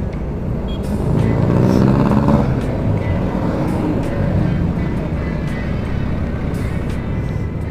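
A Yamaha Mio Gear scooter's motor hums and drones continuously, rising briefly then settling, with rushing wind noise while riding along a road.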